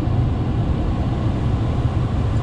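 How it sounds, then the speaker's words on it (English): Inside the cabin of a moving Rolls-Royce Wraith, a steady, even low rumble of engine and road noise fills the space, with no one speaking. "Can you even hear the engine?"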